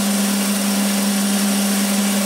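Metal lathe spinning a workpiece while a corner is taken off, a steady, loud machine hum with a strong constant tone and broadband whir, no pauses and no talking.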